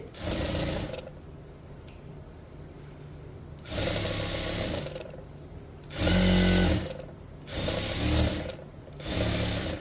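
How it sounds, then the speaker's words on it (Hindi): A sewing machine runs in several bursts of stitching on blouse fabric, princess-cut seams sewn at half-inch allowance, with loud whirring runs of a second or two separated by quieter pauses; no talking. "अब इस पे सिलाई मार लो आधा आधा इंच की।"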